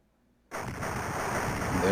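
A giant space laser blows up in the Captain America and the Avengers arcade game: after half a second of near silence, a sudden loud boom bursts in and rolls on as a sustained roar that swells slightly toward the end.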